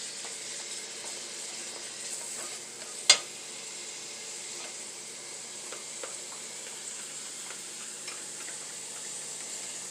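Onions and garlic sautéing in a pan for a creamy mushroom spinach pasta, a soft continuous sizzle and hiss with light stirring scrapes and one sharp clink of a utensil early on.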